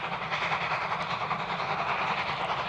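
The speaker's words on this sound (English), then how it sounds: "The train skirts the scrapyard of Mittel Steel, a steel company responsible for recycling numerous steam locomotives" A steam train hauled by two locomotives runs along the rails past a scrapyard, a steady rumbling roar with faint clatter, heard from a moderate distance without talk.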